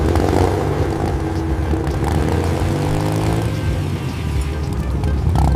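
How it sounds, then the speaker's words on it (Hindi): A motorcycle engine drones steadily and loudly with a rough, buzzing tone that rises slightly in pitch, heard alone without any speech. "प्यारे बच्चों देखो मोटरसाइकिल।"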